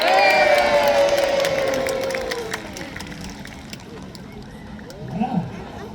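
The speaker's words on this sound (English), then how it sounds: "Let's give them a cheer!" Crowd at a mock naval battle show in a Scarborough park cheers loudly at first, then the cheering fades away to scattered outdoor noise and faint voices.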